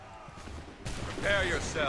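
Gunfire in the video game Assassin's Creed 3 bursts loud and close, a sharp onset partway through followed by sustained shooting with ringing tones over it.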